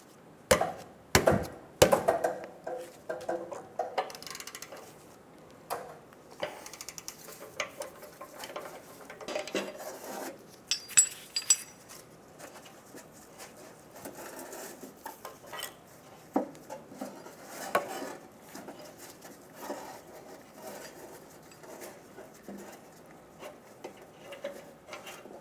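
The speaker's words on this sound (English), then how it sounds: "Using a 22mm, we're going to remove the O2 sensor." A 22mm wrench loosens the O2 sensor on a 2007-2012 Nissan Altima during catalytic converter replacement, making sparse, irregular metallic clinks and scrapes with quiet gaps between them.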